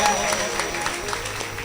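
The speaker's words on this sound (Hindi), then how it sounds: "तालियां बजाइए उनके लिए।" Short burst of audience clapping at a temple Bhagwat Katha, brisk and dense, with faint voices mixed in.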